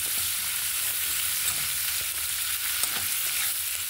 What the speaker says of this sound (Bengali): এবার কুচিয়ে রাখা পেঁয়াজটা লাল লাল হয়ে আসা পর্যন্ত নেড়ে ছেড়ে নেব।